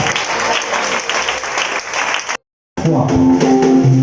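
Church congregation clapping and cheering during a Sunday worship service, dense sustained applause for about two seconds, a brief silent cut, then clapping resumes over organ-like music.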